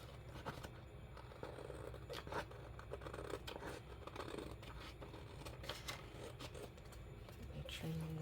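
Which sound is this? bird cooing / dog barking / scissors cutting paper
scissors cutting paper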